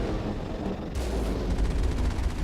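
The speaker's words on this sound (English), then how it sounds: "It doesn't like all this tank fire that I'm giving it." The Mako tank's cannon firing in Mass Effect: a heavy, booming blast breaks over rumbling background noise, followed by rapid repeated impacts that ring out loud and close, with no talking.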